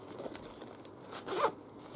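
A zipper on a bag pocket runs in a quick, close raspy pull, with softer fabric rustles and handling around it, no talk during the sound.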